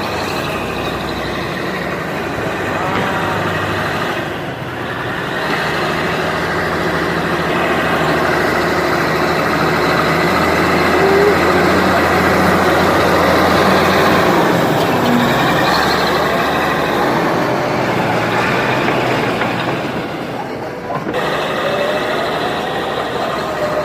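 A truck engine at a new school construction site rumbles loud and near, holding a heavy, steady drone that swells and eases slightly over more than twenty seconds, with no one talking.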